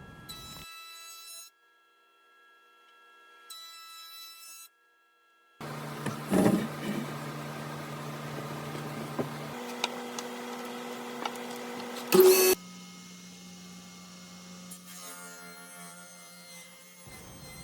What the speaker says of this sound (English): Here I'm planing the board to its final thickness